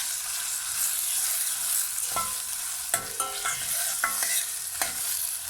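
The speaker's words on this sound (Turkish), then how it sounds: "Tekrardan salçayı güzelce kavuruyorum." Tomato paste sautéed in a pan for a dried eggplant dish, with a steady low sizzle under repeated scraping stirs and a few sharp spoon knocks against the pan.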